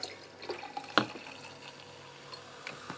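A drink is poured into a glass in a home on New Year's Eve, giving close splashing and trickling with a sharp splash early on, then a thinner dripping flow that tapers off.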